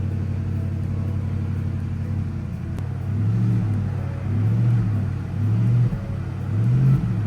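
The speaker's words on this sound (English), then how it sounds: "That V8 definitely sounds good." Porsche Panamera GTS V8 engine idling just after starting, a loud steady low rumble close by with a few light revs swelling and dropping, no talk.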